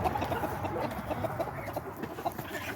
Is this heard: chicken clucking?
yes